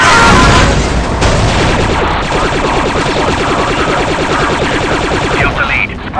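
A grenade blast in the Star Wars: Republic Commando video game, a loud booming burst at the start followed by sustained rattling gunfire and battle noise throughout.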